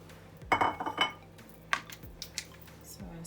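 Seafood boil ingredients being stirred with dry seasonings in a metal pan, a few clanks and scrapes of a utensil against the pan, close and sparse, with a voice murmuring faintly.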